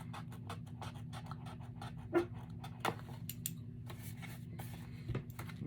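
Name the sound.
dog barking and panting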